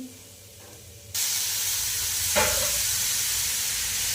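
Tomatoes frying in an iron pan for onion-tomato chutney: quiet at first, then a loud, steady sizzle swells in about a second in and keeps hissing to the end, with one brief sharper burst partway through.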